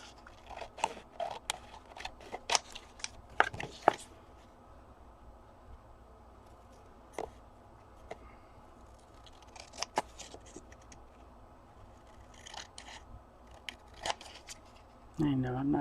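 Scissors cutting paper for a single signature pamphlet journal, producing crisp snips and rustling that come in clusters with quiet gaps, close and fairly soft.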